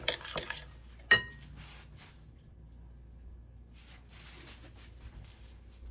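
A spoon mixing psyllium husk into healthy pancake batter in a bowl: a few sharp clinks against the bowl early on, then soft, faint scraping and stirring with long quiet stretches.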